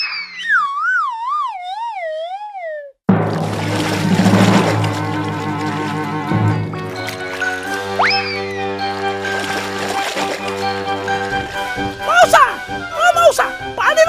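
A cartoon dog in an animated Odia folk tale about a greedy dog barks a few sharp yips over a busy musical score with warbling sound effects at the start.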